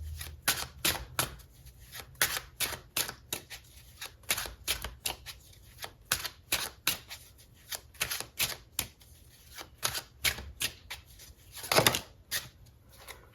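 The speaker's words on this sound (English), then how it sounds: "I want to start by pulling a card for the Seven of Wands" A deck of tarot cards is shuffled up close, a long run of quick riffling bursts in a steady rhythm with a louder snap near the end.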